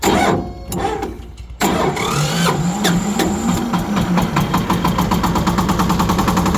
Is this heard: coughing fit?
no